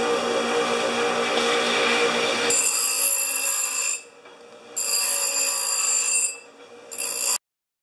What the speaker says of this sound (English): you saw me cutting and grinding and polishing the 1-inch stock